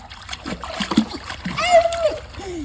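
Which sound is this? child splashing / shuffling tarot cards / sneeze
child splashing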